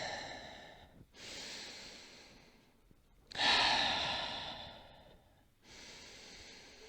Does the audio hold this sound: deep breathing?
yes